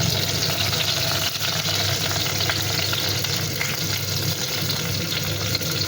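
Crushed garlic, shallots and curry leaves frying in coconut oil, a loud, steady, close sizzle that crackles evenly throughout with no voices.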